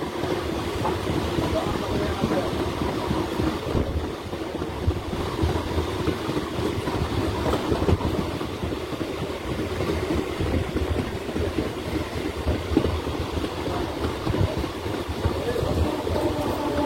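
A local train rolls along the Howrah-Bardhaman main line in eastern India with a continuous loud rumble and faint wheel clatter, heard from on board, with some speech underneath.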